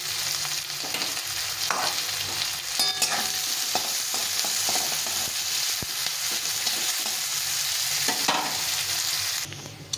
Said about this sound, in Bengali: প্রথমে আমি পেঁয়াজের বেরেস্তা পেঁয়াজ ভেজে বেরেস্তা করে নেব।